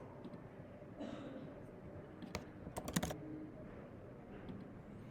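Soft keyboard typing, a few quiet key clicks, then a quick burst of taps near the middle of the clip, over a low background hum.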